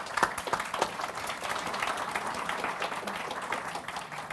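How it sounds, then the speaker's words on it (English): A conference audience applauds a panel, steady dense clapping that fills the room evenly for several seconds, with a few sharper claps near the start and no talk over it. "perhaps we can give them a quick round of applause"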